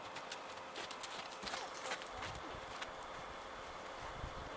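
Hooves of a horse, a mare breaking into a canter, thud in a quick irregular rhythm across a few seconds, moderately close and fairly faint under steady outdoor background noise.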